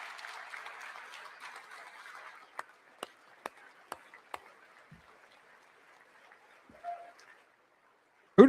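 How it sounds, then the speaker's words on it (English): Scattered isolated claps at a hockey gold-medal celebration, about five sharp single hand claps spaced roughly half a second apart in a quiet room after faint murmuring. "Who the fuck was clapping?"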